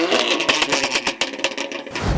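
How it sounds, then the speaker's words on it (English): A 1000 hp BMW M4 F83 convertible with a loud exhaust fires up. Close, sharp rapid crackles and bursts sound over a rough engine roar, then settle into a deeper, steadier rumble near the end. "the last thing to do is to start this thing up and take it for a drive"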